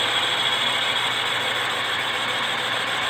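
A lathe boring a home-cast aluminium cylinder reaches the exhaust port, where the cut turns intermittent: a steady, loud, dense hiss of machining noise with a metallic edge, running continuously with no voices.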